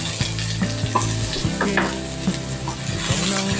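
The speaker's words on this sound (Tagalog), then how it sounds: "Haluin lang po natin ito hanggang sa lumabas po yung natural na sweetness ng ating sibuyas." Onions sauté in oil in a kawali as a spatula stirs them, giving a bright sizzle with repeated scraping strokes in a loose rhythm, close and fairly loud.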